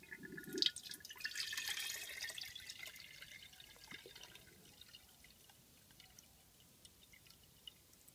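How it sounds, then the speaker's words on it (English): Water and plastic draining out of a micro-plastic float gravity separator: a burst of splashing and pouring that tapers into a faint, steady trickle with scattered drips, quiet and without talk. "This is a view of the plastic being drained out of our separator."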